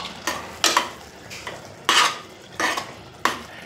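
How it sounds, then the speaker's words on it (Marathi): Carrot halwa stirred in a pot after cardamom powder is added, a series of about seven distinct scraping strokes of a spoon against the metal pot over a quiet background. "आता आपण यात वेलची पावडर टाकत आहोत। ही बघा, मस्त, आणि परत याला मिक्स करून घेत आहोत।"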